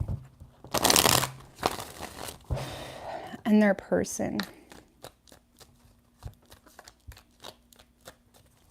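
A deck of tarot cards is shuffled in a few quick, papery riffling bursts, then light taps and clicks follow; a voice speaks briefly near the start.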